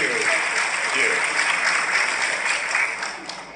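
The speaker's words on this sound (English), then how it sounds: "Let's give a round of applause, okay?" An audience gives a round of applause, a loud and continuous burst of many hands clapping with some voices mixed in, tapering slightly at the end.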